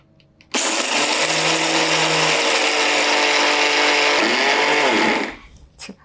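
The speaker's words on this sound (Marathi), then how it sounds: "आधी सुकंच हे मिक्सरला फिरवून घ्यायचं पाणी न टाकता" A kitchen mixer grinder dry-grinds chutney ingredients with no water added: a loud motor whine starts abruptly, runs about four and a half seconds with a pitch shift near the end, then spins down.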